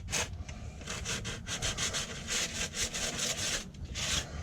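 Abrasive scuffing of an engine part's gasket surface during a rebuild, a steady rough rasping scrape repeated in quick back-and-forth strokes, close and continuous with no talking.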